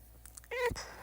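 A house cat gives one short, close meow after a few faint soft sounds, with quiet room background around it.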